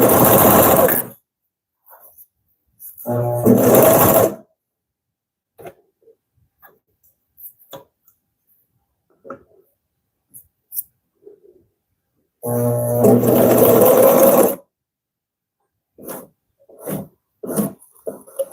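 A Consew CP206RL portable walking foot sewing machine runs in two loud, steady bursts of stitching, each a few seconds long, with quiet handling clicks and small taps in the gaps between them.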